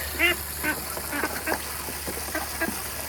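A Peking duck quacks in a Caribbean backyard, a loud nasal quack up front followed by a string of softer, scattered quacks over a steady low hum.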